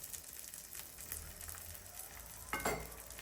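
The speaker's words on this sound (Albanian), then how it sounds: "Skuqim suxhukun nga të dy anët." Sujuk sausage fries in a pan with a constant close crackling sizzle and a brief louder burst of spitting toward the end.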